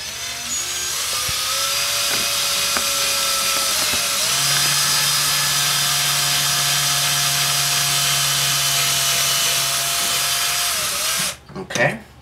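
Power drill whining steadily as it bores a pilot hole into an accordion body, with a constant motor tone holding for about eleven seconds before it stops, followed by a brief clatter.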